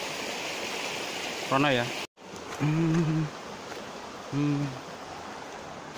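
River stream flowing down from Mount Lawu, a steady broadband rush of water heard close and continuous, with a few brief spoken words over it.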